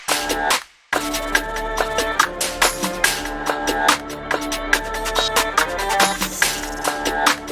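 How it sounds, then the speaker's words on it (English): A drill beat percussion loop with a melody, bouncy hi-hats and snappy hits over sustained melodic tones and low bass, loud and continuous after a brief dropout near the start. "So it's just another simple perk loop together with the melody and everything."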